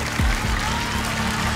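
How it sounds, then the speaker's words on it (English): A round of applause from a talent-show audience greets a magician on stage at Romania's Got Talent, a steady, dense wash of clapping throughout the short moment. "A big round of applause, yes."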